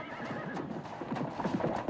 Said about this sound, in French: Les cavaliers sont des hommes vaillants qui montent des chevaux de pure race.